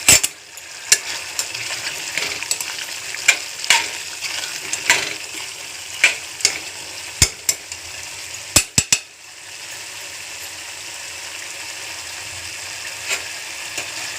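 Onions fry in a pan for chicken curry with a steady, close sizzle. Sharp clinks of a utensil against the pan break in irregularly throughout.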